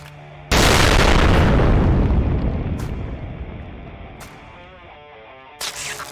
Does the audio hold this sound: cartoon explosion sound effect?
yes